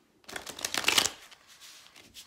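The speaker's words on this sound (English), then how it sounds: "So right now I'm shuffling the Gilded Tarot deck" Gilded Tarot deck being shuffled by hand, a quick run of crisp riffling card flutters lasting about a second, then softer settling rustles, close and fairly quiet with no talking.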